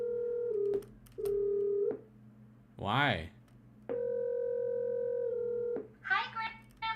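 Telephone ringing effect being edited in Adobe Audition: steady, even electronic ring tones in long bursts, interrupted by a brief spoken word in the middle and a short warbling tone burst near the end.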